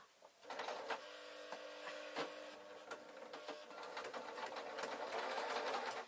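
Close and steady, a sewing machine runs continuously while stitching a Downton Abbey–style dress, its fast mechanical chatter carrying a few brief clicks and little variation.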